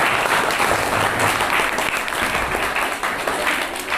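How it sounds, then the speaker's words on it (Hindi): A crowd at a school farewell and honour ceremony in Kamlapur, Bokaro, breaks into loud, steady applause welcoming a teacher, dense and close, with no voices over it. "इनके स्वागत में एक बार जोरदार तालियों के साथ"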